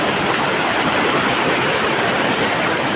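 Heavy monsoon rain pouring steadily over flowing water outdoors, a dense, loud, unbroken hiss and rush filling the air with no voices.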